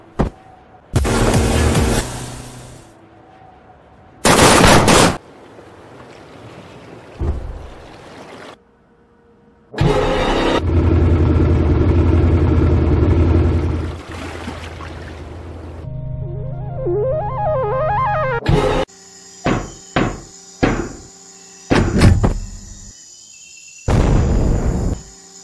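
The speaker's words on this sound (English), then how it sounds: "it kind of looks like the SAM turret's shooting all of its missiles" Missiles launching in bursts from a SAM turret in a Henry Stickmin game, with loud booming blasts, a whooshing stretch, rising beeps and sharp repeated pops in a game soundtrack.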